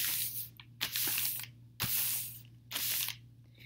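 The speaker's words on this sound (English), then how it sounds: "So you crumple it up and then smooth it out." A sheet of paper is crumpled up and then smoothed flat, giving several bursts of broadband crinkling and rustling separated by short pauses, close and fairly quiet over a steady low hum.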